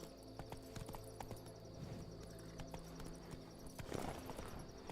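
Hooves of Roach, a horse ridden in The Witcher 3, clop in a steady stream under game music and ambience, with a louder burst of movement near the end.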